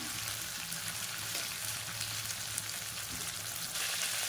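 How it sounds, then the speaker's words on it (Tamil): Chicken pieces frying in hot oil, a steady close crackling sizzle with bright spattering that continues throughout and swells slightly louder toward the end. "இப்போ இதை வந்து நல்லா பொரிச்சாச்சு"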